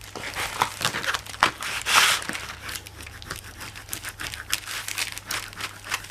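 Plastic packaging crinkles and crackles close by during an unboxing, an irregular series of crisp rustles and sharper crunches with a louder burst near the start.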